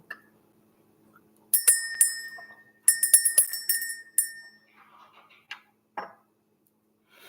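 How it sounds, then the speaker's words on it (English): A bell struck several times in clusters, bright ringing tones with short decays, separated by pauses, then a couple of softer isolated taps near the end. "We're going to ring the bell."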